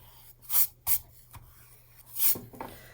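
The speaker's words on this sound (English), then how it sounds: "I'm going to erase this" Eraser rubbing out a pencil drawing on paper, a few short brisk scrubbing bursts separated by quiet pauses, close and clear with no talking.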